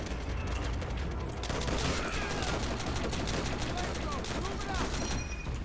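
Sustained gunfire in the video game Call of Duty: World at War, rapid rifle and machine-gun bursts layered in a constant battle din, with a player talking over the shooting.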